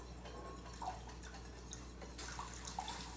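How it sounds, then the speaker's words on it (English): Two cups of warm milk poured slowly into a pan for a Sicilian baked pasta sauce: a faint, steady liquid trickle with small drips and clinks, quiet and close, with no talking. "I'm going to slowly add in the warm milk."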